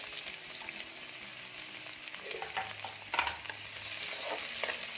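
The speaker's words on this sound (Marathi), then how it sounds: "आलं थोडं परतलं की त्यामध्ये कांदा टाकणार आहोत।" Ginger and onion fry in a pan for a Malvani egg curry, a steady close hiss of sizzling oil with a few soft scrapes of stirring, with no talking.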